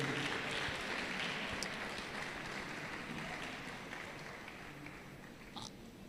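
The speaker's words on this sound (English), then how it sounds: "Can you give her a round of applause again?" Quiet applause at an education innovation event rolls on for about six seconds. It is distant and soft and fades slightly toward the end, with a few sharp clicks standing out from the crowd.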